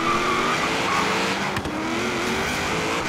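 A car launching hard in Forza Horizon 3, its engine roaring loudly and steadily with squealing tires layered on top, close and continuous with no talk.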